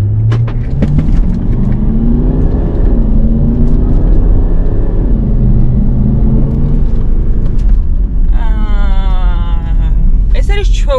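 A Range Rover Vogue Autobiography accelerates hard on a straight road, heard from the cabin as a steady deep engine rumble rising in pitch, with a voice speaking briefly near the end.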